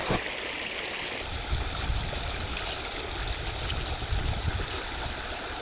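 Clear spring water runs in a stream in the countryside of Badlapur village near Mumbai, a continuous close rushing and gurgling flow with no voices.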